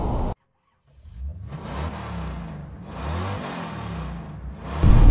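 The 1.6 SCE engine of a 2018 Renault Captur Zen SUV with manual gearbox accelerating, a mid-pitched engine note that rises and falls through revs, close and steady after a brief silence.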